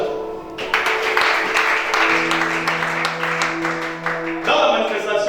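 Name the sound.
congregation applauding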